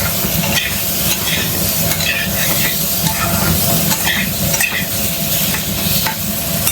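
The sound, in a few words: pumpkin pieces frying in oil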